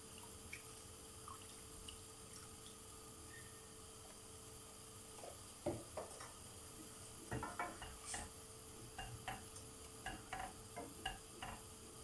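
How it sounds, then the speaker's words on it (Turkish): Milk being heated in a pot on the stove for Turkish rice pudding (sütlaç), with a spoon stirring it now and then. Faint, scattered light clinks and scrapes sit over a low steady background hiss, and no one speaks. "Sütümüz kaynayana kadar karıştıra karıştıra pişiriyoruz."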